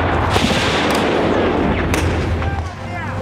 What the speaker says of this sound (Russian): Снайпер работает!